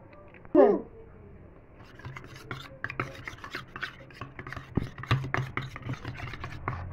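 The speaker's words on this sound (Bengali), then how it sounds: "এবার আমি এই যে বার্গার সস আর হচ্ছে মেয়োনিজ একসঙ্গে মিশিয়ে নেব" Burger sauce and mayonnaise mixed together in a bowl, with a run of soft, irregular scraping and rubbing strokes after a brief louder knock near the start, over a low background hum.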